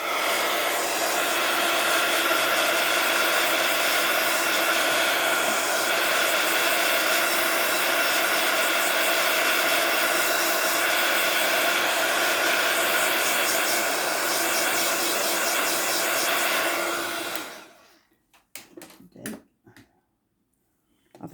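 A hair dryer blowing on a freshly stamped paper craft, a loud, continuous close whooshing roar that runs steadily for about seventeen seconds, then cuts off abruptly, leaving a few faint handling clicks.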